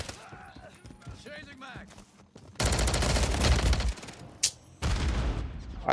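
Call of Duty SMG fire from a Striker 9 class erupts in two long, loud sustained bursts of rapid shots, split by a short pause, after a stretch of quieter game sounds and someone talking.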